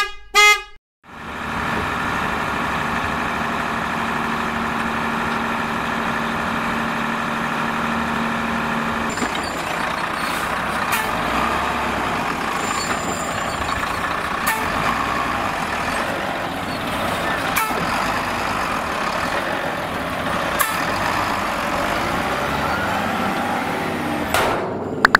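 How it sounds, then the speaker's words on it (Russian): A heavy dump truck's engine rumbles steadily for a long stretch, with a few honks of its horn near the start and scattered clanks throughout. "Точно, это самосвал."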